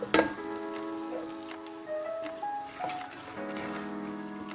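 Cut almonds roast in a hot pan while the Nutella burfee is prepared, giving a soft steady sizzle with occasional light ticks and scrapes, fairly quiet and close, with no talking.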